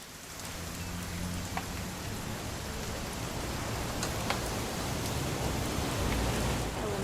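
Steady rain falls in What Remains of Edith Finch, a dense, even hiss of drops on surfaces with occasional sharper drips, continuous and fairly loud throughout.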